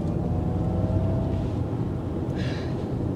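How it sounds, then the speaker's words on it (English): A steady low vehicle drone with road and wind noise, holding at an even, fairly loud level as a 2023 Ford Mustang Mach-E electric SUV picks up speed onto an interstate. "Taking it up onto the interstate with unbridled,"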